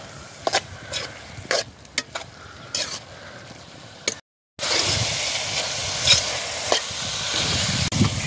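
Goat blood fry with coconut is stirred in an oiled pan. Sharp scraping clicks over a soft hiss come first, then after a short break a louder, denser sizzle continues with occasional knocks of the spoon.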